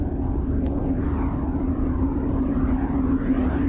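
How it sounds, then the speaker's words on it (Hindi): Neptune rendered as sound from a space recording: a continuous low, rolling rumble with slow surging swells like waves crashing together, steady and fairly loud throughout. "ये है नेपच्यून का साउंड। ये अपने पड़ोसी ग्रह यूरेनस से थोड़ा शांत है, लाइक ऑलमोस्ट जैसे समंदर की लहरें आपस में टकरा रही हों।"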